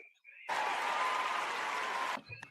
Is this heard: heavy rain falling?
no